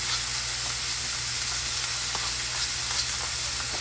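Sausage frying in a pan for a breakfast casserole, a dense continuous sizzle and crackle close by with faint scattered pops, no voices over it.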